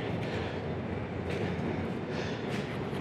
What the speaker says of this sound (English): This is the Roosevelt Island subway stop.